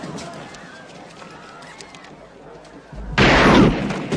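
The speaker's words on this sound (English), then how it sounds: "the relationship ended abruptly when Joker decided to shoot him" A single loud, sudden gunshot burst erupts near the end of a Joker movie scene, after several seconds of quieter background sound and murmuring.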